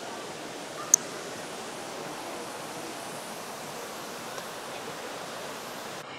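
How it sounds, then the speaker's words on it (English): Large waterfall at Treasure Mountain in Tanay, Rizal, a steady, even roar of falling water heard from a distance, with a single sharp click near the start. "Here's the huge, kind of massive, how would you describe it? Waterfall."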